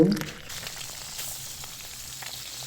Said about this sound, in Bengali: মাছ ফ্রাই করবো